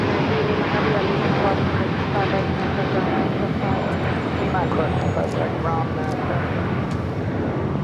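A China Airlines Airbus A350-900 in carbon fiber livery takes off from LAX, its engines a loud, sustained broadband roar close by, with an air traffic control radio voice heard over it.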